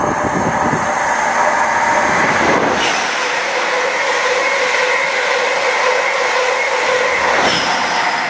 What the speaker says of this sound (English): that takes care of the train